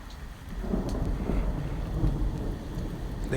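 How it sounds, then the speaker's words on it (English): Steady rain patters on surfaces while low thunder rumbles through, a continuous soft wash of rainfall with a deeper rolling undertone, heard from indoors. "There goes some thunder."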